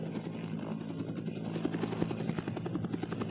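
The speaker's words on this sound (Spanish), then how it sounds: "El estruendo de las aspas del helicóptero lo llenaba todo" A helicopter's rotor blades roar in a steady, dense rhythmic beating that fills the whole clip, loud and close, with no voices over it.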